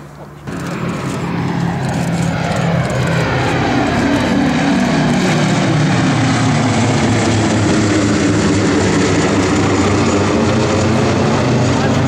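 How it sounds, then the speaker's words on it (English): At the Duxford air show, a WWII bomber built by Lockheed Vega at Burbank, California, drones with a loud, sustained propeller-engine roar that rises and shifts as it passes, while a commentator talks underneath. "This aircraft, this particular one, built by the Lockheed Vega plant at Burbank in California"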